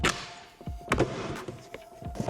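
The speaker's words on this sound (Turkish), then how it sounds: "Kapıyı yukarıya doğru ittiriyoruz." A Volkswagen Polo door trim panel being pushed upward and pried off the door, giving a quick series of sharp plastic clicks and clip pops with brief scraping between them, close and fairly loud.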